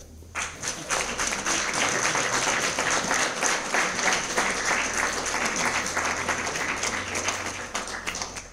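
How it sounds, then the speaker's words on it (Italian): An audience at a cultural evening event claps steadily for several seconds after a speech, dense and even applause heard from within the hall. "arrossisco e non posso che applaudire il nostro assessore"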